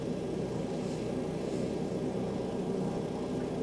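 OH-6 helicopter flying in ArmA 3, a dense, steady rotor and engine drone that stays loud and close for the whole stretch without letting up.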